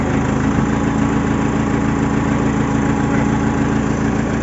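A JCB backhoe with a hydraulic pump leaking oil idles its engine in a steady, loud, close low rumble that stays even throughout with no voices.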